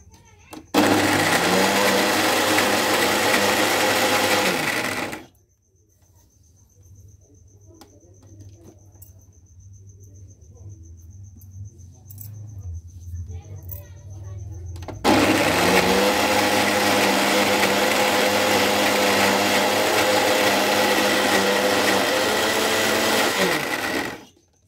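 Electric mixer grinder whirring loudly as it grinds soaked moong dal into batter for vadas, running for about five seconds, pausing for roughly ten seconds of quiet background, then roaring again steadily for another ten seconds.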